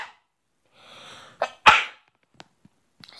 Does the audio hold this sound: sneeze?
yes